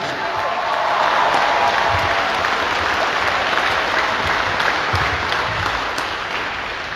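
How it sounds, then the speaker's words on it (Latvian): Loud, sustained applause from a large crowd welcoming home an Olympic champion in Jelgava, dense clapping filling the whole stretch with a steady roar. "Aplausi, aplausi, skaļi aplausi!"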